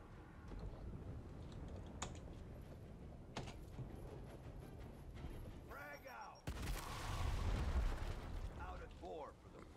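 In Gears Tactics, a frag grenade goes off with one sudden, loud blast that follows quieter gunfire and clicking, then rumbles on briefly while a person talks.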